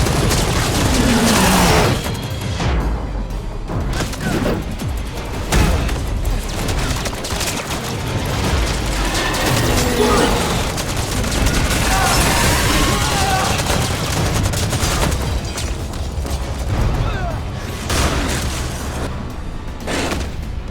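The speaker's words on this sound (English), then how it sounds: "Whilst avoiding gunfire, Jack runs on the rooftop" Game gunfire crackles in bursts during a rooftop chase in Need for Speed: The Run, over a dense, loud mix of music, booms and mechanical clatter, with voices occasionally cutting through the action.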